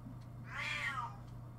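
A house cat gives a single medium-length meow, fairly close, over a constant low background hum, with no one speaking.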